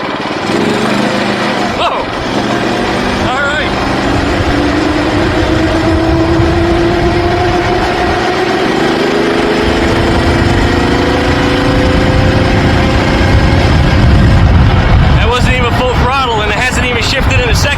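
A VW bus go kart's engine runs steadily and loudly through the whole stretch, a constant close motor drone with shifting pitch as it moves, while voices talk over it.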